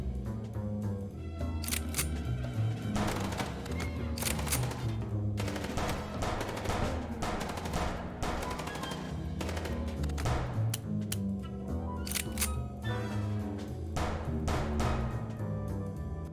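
Rapid gunfire from the video game Chicken Police crackles in dense, sharp bursts of shots over music-like background, steady and fairly loud across the whole stretch with no talking.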